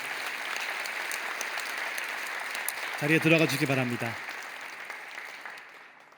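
A church congregation at a teacher appointment and award ceremony gives steady applause. A spoken announcement briefly rises over the clapping, which then fades out toward the end.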